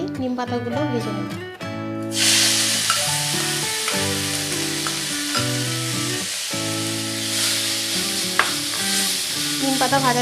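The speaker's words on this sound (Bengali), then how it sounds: "এবার আমি ওই বেগুন ভাজা তেলের মধ্যেই নিম পাতাগুলো ভেজে নেব।" Neem leaves hitting hot oil left over from frying eggplant set off a sudden loud, steady sizzle with crackling pops. Someone talks over it throughout.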